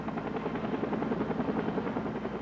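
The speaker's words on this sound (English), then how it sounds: "When the air care helicopter got Gilbert to Baptist Hospital" An air care rescue helicopter in flight gives a steady, rapid rotor chop with a low engine drone, close and constant throughout.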